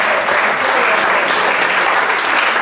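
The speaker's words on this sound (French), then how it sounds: "vous pouvez applaudir sa sérénité" An audience at a stage show bursts into applause, a loud, dense, continuous wash of clapping from many hands, steady and close, with no clear voices.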